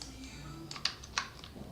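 Computer keyboard keys tapped while deleting a code module, a few scattered soft clicks at close range over a faint steady background hum, with no voices.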